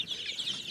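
Chickens on a mixed integrated farm cluck busily in a short, steady burst as a large crested hen is grabbed, the calls close and fairly loud with no talking.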